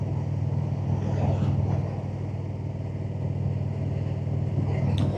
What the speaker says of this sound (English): Check out this car coming at me here.